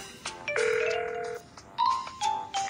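An outgoing phone call rings in a children's cartoon, giving two sustained electronic ringing tones with a gap between them, clear and fairly close, with no talking.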